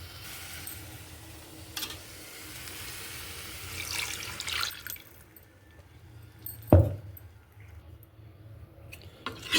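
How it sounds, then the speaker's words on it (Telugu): Water poured from a vessel into a pan of simmering egg masala curry, a steady splashing hiss that fades, followed by a sharp clank of metal near the end. "ఆ వాటర్ ఎత్తి దీంట్లో పోసుకుందాం."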